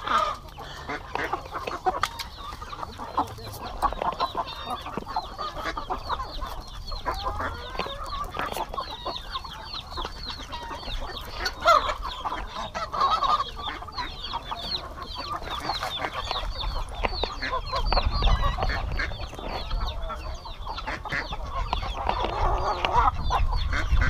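Farmyard poultry, including ducks, geese, chickens and turkeys, cluck, quack and honk in an overlapping chorus, with irregular calls near and far and a brief rumble near the end.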